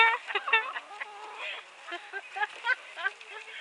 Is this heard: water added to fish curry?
no